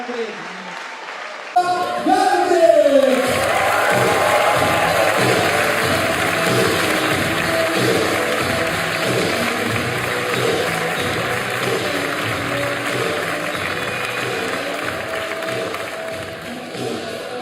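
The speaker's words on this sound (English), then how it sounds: "Garnbret enters the arena to thunderous applause, flags waving here" Dense, sustained applause and cheering from a large crowd fills an arena at a lead climbing competition in Kranj, a steady roar that swells after a quiet opening and holds, with a commentator's voice faintly underneath.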